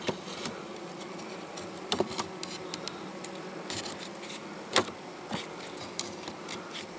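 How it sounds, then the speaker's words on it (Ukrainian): A steady, dense hum of many honeybees buzzing around a hive nearby, with occasional light taps and scrapes over the drone. "бджоли проходять через ці ось отвори дуже легко і займаються будівництвом і носять мені сюди мед"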